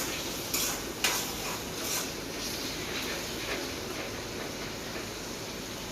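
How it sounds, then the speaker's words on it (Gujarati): Pasta stirred in a hot pan with turmeric and salt, a steady sizzle with a utensil scraping and clinking against the pan, a couple of sharper knocks near the start. "થોડુંક મિક્સ કરી નાખી દઈએ હળદર અને મીઠું ને."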